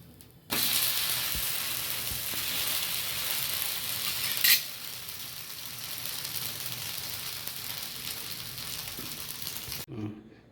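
Multigrain navadhanya dosa batter cooking on a hot pan, a continuous close hiss and sizzle lasting nearly ten seconds with a brief metallic scrape midway, then cutting off abruptly.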